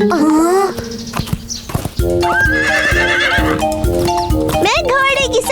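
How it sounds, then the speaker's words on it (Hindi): A horse in a Hindi-dubbed animated cartoon neighs and whinnies repeatedly with clip-clopping hooves, loud and close, over busy background music and sound effects. "मैं घोड़े की सवारी करूंगी।"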